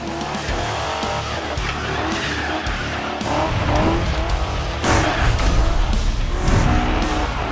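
A race car is driven hard on a track, with its engine roaring and rising, and its high-performance street tires squealing and skidding through corners, loud and close.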